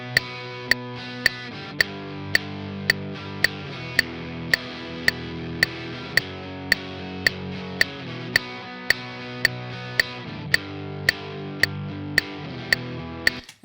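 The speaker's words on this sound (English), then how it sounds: "we have our one scratch track that we would cut to the click" A scratch guitar or keyboard part played against a steady metronome click, the sharp evenly spaced ticks cutting through sustained chords that change every couple of seconds, close and moderately loud with no voices.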